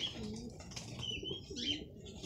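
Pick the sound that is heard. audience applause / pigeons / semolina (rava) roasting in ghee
pigeons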